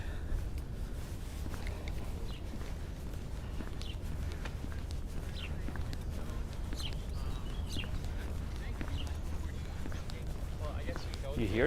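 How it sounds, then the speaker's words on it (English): Faint, scattered bird chirps come from a city park in Manhattan, under people talking and the noise of steady outdoor footsteps. "Oh, it's that bird. Oh, I don't know what kind of bird that is."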